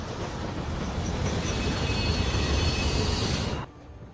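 A train rumbles along in Telltale's The Walking Dead game, a loud continuous roar with faint metallic whines that cuts off abruptly near the end.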